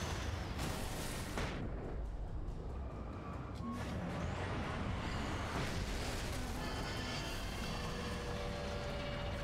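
Flashbangs in a video game go off as dense, loud bursts of noise amid a continuous rumbling, chaotic din, with sharp blasts near the start and a roar sustained to the end.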